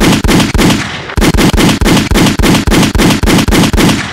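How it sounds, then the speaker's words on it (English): Rapid bursts of gunfire, about a dozen loud sharp shots in a steady repeating rhythm with a brief pause near the start, close and dominant with no talk. "I mean a gunshot, man."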